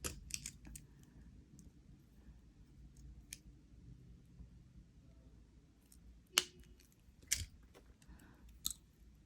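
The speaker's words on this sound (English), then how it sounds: "I'm going to cut my wire 15 millimeters." Wire cutters snip thin jewelry wire for wire-wrapped post earrings, giving a few sharp, close clicks spaced apart over a quiet background with light handling noise.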